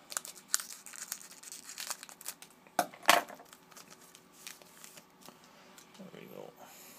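A sports trading card pack wrapper, from a Panini Contenders hockey box, is handled and cut open, giving crinkling foil and rustling with a sharper tearing crunch near the middle, close and moderately quiet.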